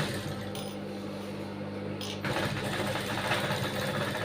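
A sewing machine stitching a blouse neck runs steadily at low volume, with a faint hum and a slight change in tone partway through as the stitching picks up.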